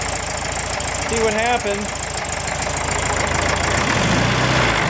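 Cold 1970 VW Beetle air-cooled engine idling while warming up, a loud steady close rumble with rapid even pulsing throughout, someone briefly speaking over it.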